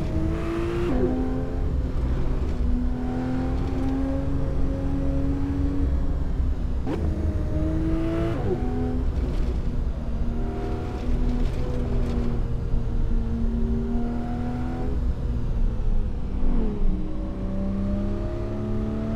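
A car driven in free roam through the Santa Monica Mountains in Assetto Corsa: a loud, continuous engine drone rising in pitch and dropping sharply at repeated gear shifts, with no talking.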